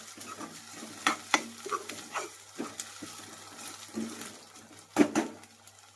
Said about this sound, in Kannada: ಶುಂಠಿ ಬೆಳ್ಳುಳ್ಳಿ ಪೇಸ್ಟ್ ಹಾಕೊಂಡು ಇದನ್ನು ಹಾಕಿ, ಯಾಕಂದರೆ ಇದ್ರದ್ದು ಹಸಿ ವಾಸನೆ ಹೋಗ್ಬೇಕಲ್ರಿ, ಹೀಗಾಗಿ ಉಳ್ಳಾಗಡ್ಡಿ ಜೊತೆಗೆ ಸೇರಿಸಿ ಫ್ರೈ ಮಾಡ್ಕೋಬೇಕು.